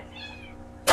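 A cat meows once, close and fairly loud, while eating a catnip bag pulled from the garbage at home. A short burst of harsh noise follows.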